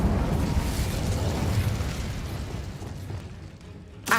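A Confringo or Incendio fire spell detonates in Hogwarts Legacy with a rumbling explosive burst that decays slowly over several seconds, followed by a brief sharp pop at the very end; no talking is heard.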